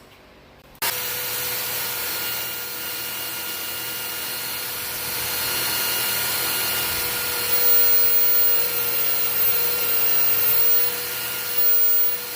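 A power tool cuts through the leg of a mahogany plant stand under repair, starting abruptly and then holding a steady, loud whirring drone with a faint tonal hum until the end.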